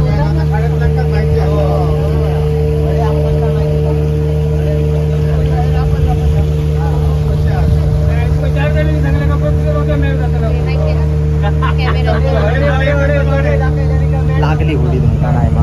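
A motorboat cruising through the mangrove-lined Mandavi creek at Vengurla, its engine a steady, strong drone with a constant hum throughout while people talk over it.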